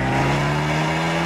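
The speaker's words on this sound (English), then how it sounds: "Abarth have given it something called the Record Monza exhaust system. What it does is make a small car produce a big car noise." Abarth 124 Spider engine breathing through a Record Monza exhaust, a steady low, loud drone held close up with no voices over it.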